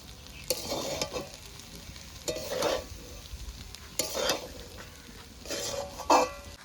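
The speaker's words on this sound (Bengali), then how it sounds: "এবার নেড়ে চেড়ে ধনে পাতাটা মিশিয়ে নেব" Cooked chicken pasta with fresh coriander leaves being stirred in a hot pan, the spatula scraping in four or five separate bursts over a low, steady sizzle.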